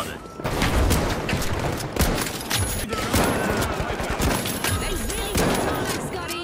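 Slug shotgun in a video game fires repeatedly in heavy, booming blasts, loud and close, with an almost continuous barrage of shots and impacts through the whole stretch.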